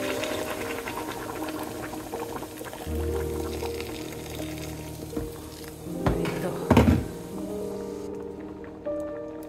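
Water pours into a pot of fried rice for chicken biryani over a sizzling, bubbling background, with a few clanks and a louder splash partway through, then settling toward quiet.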